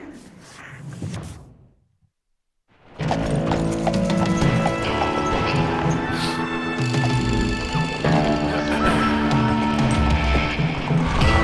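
Horses galloping in the video game Call of Juarez: Gunslinger: after a brief silence, steady loud hoofbeats of several horses pound continuously with a neigh and a music-like tonal bed over the top.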